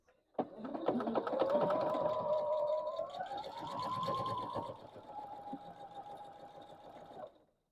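A close sewing machine stitches steadily along a marked line on a quilt block petal, one continuous run of motor whir with a shifting pitch, alone without talk.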